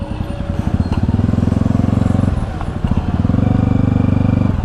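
A motorcycle fitted with a rear sidebox crawls through jammed traffic, its engine a loud, steady, rapid close-up putter that dips briefly midway before resuming.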